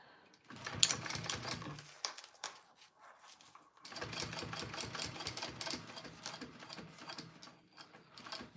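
A sewing machine basting fabric for a Louie garment runs in rapid clattering bursts, a short run, a pause, then a longer steady stretch of stitching, close and fairly loud.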